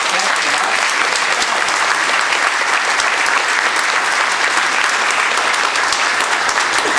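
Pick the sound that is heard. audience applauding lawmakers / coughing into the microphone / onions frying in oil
audience applauding lawmakers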